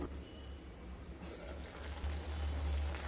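Potol aloo curry of pointed gourd and potato simmering in a pan, a soft steady bubbling sizzle with faint gentle pops, quiet and close, with no talk over it.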